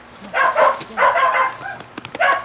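A young registered bluetick hound, a two-year-old mountain lion hunting dog, lets out several loud, close barks and yips in quick bursts. A short pause with a softer whine comes before the final bark.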